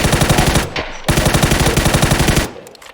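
Rapid automatic gunfire from a PUBG battle: two long bursts of loud, close rhythmic shots separated by a brief pause, then trailing into a few scattered quieter shots.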